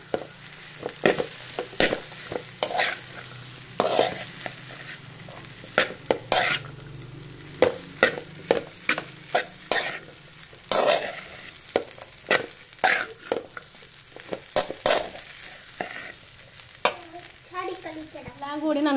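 Homemade noodles with masala are stirred in a pan, giving a run of sharp, irregular spatula scrapes and knocks over a low sizzle, close and clear, with no talk.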